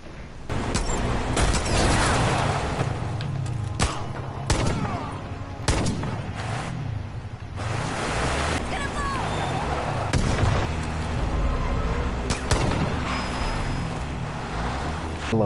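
Gunfire in the video game Far Cry 5: loud, sharp shots and bursts crack repeatedly at an irregular pace over rumbling engine and explosion noise, with voices talking in between.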